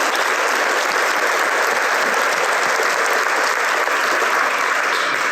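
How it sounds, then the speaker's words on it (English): An audience at a Toyota 4T Academy event in Blue Springs, Mississippi gives sustained, dense applause to a panel, loud and even throughout with no voices over it. "let's give our panel a round of applause"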